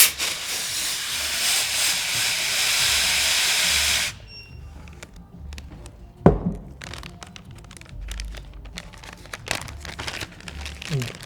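Compressed air blasts into a closed coffee grinder to blend fly-tying dubbing, a loud steady hiss for about four seconds, followed by clicks, rattles and crinkling handling sounds.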